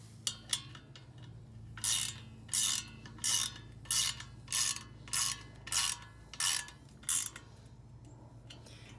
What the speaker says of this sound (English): finish tightening up your screws.